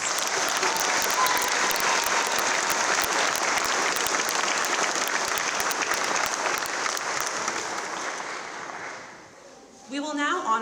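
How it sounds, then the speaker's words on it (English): Sustained applause from a graduation ceremony audience at Upper Iowa University, loud and steady for about eight seconds, fading out before a voice begins speaking at the end. "please give a round of applause to our undergraduate recipients"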